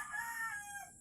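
A rooster crows once in a short, strident call, heard fairly close over a quiet background with no voices.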